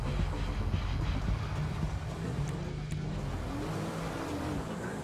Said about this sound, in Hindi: रोल्स रॉयस आ रही है, रोल्स रॉयस इससे भी ज़्यादा महंगी गाड़ी है।